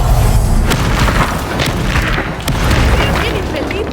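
Repeated booming blasts from a Confringo explosion spell in the Hogwarts Legacy game, loud, dense rumbling bursts piling over one another amid heavy low-end noise.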